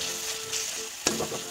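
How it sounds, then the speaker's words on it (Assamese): Tomatoes fry in a pan for a chicken leg-piece dish, a continuous close crackling sizzle with a brief stirring clatter partway through. "বিলাহীখিনি গলালৈকে ভাজি থাকিম।"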